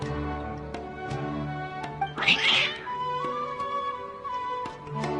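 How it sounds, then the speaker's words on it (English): Agitated cats in Genshin Impact give out a short, loud burst of meowing and yowling near the middle of the clip, over steady game music with soft ticking. "Your cats seem pretty worked up."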